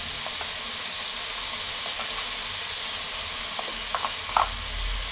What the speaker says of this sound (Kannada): ನೀಟಾಗೆಲ್ಲ ಮಿಕ್ಸ್ ಮಾಡ್ಕೊಳ್ಳೋಣ ಎಣ್ಣೆಗೆ